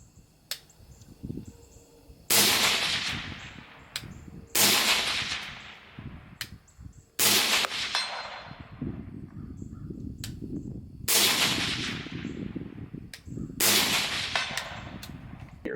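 Five suppressed shots from a Gordon carbine fitted with an Otter Creek Labs OCM5 suppressor, evenly spaced a few seconds apart, each a sharp crack with a short trailing tail, fired outdoors at a range with faint background noise between them.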